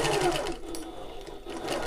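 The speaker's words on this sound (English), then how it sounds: "we'll pop that under the presser foot, needle down, same stitch length" A sewing machine runs steadily, stitching a seam along a shoulder bag with the needle down under the presser foot, a close, continuous mechanical whir with fast rhythmic needle strokes and no talking.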